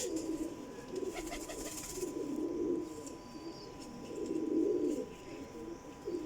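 Netted Kasuri pigeons coo in low rolling phrases that swell and fade in three or four waves, close by, with lighter chirping and a faint steady hum behind.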